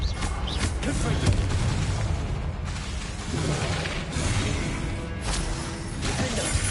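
Confringo fire-blast spell cast in the Hogwarts Legacy video game, heard as loud explosive booms and crashing impacts over a dense, continuous layer of combat sound.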